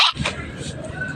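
A dog makes short yipping sounds outdoors near a large tree, with people chatting over it throughout.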